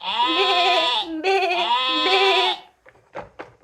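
Two long, wavering sheep bleats, likely a human voice imitating a sheep in a children's farm-animal song, followed by a few short, soft sounds.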